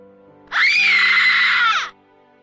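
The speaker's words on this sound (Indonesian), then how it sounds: "hingga membuatku seketika berteriak histeris" A woman screams hysterically in an audio drama, one sustained, piercing shriek lasting over a second, loud and close, rising sharply and then cutting off.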